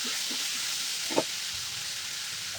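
Bay leaf, dried chilli and cumin sizzling in hot oil, a steady bright hiss up close, with a soft stirring knock partway through.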